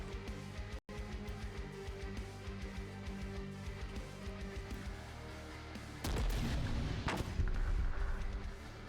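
Mortar fire in the turn-based strategy game The Last Spell, heard as a rapid series of regular thumping shots and booms, then a heavier, louder burst of impacts and explosions toward the end, with no talk.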